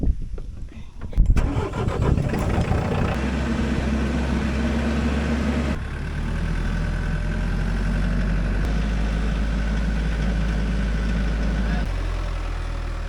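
A tractor's engine cranks and catches, then settles into a steady, loud low idle that runs throughout, close by at a greenhouse construction site, with a brief shift in engine tone partway through.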